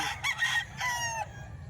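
Spangle gamefowl rooster crowing, a single near, fairly loud crow with a rising start and a drawn-out middle that cuts off cleanly, over a low steady background hum.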